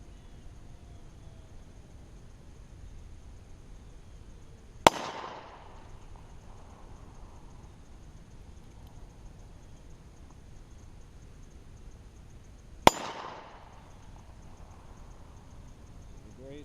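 Two sharp, loud gunshots from a new Heritage Rough Rider .22 revolver, fired about eight seconds apart outdoors, each a single crack followed by a short decaying echo over a quiet background.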